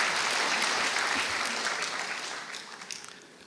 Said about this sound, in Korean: 박수로 한번 환영해 주시겠어요?